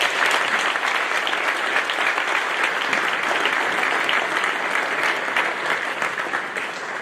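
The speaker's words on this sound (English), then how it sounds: "Let's give them a round of applause." Audience at a high school awards night breaks into steady, sustained applause, a dense wash of clapping that holds evenly for several seconds without talk.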